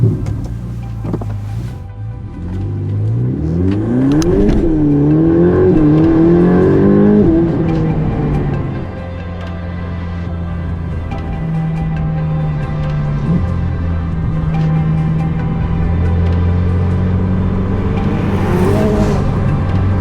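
A Ferrari 488 Pista twin-turbo V8 revs up and down through several rising pulls, then settles into a loud, steady cruising drone, heard from inside the car.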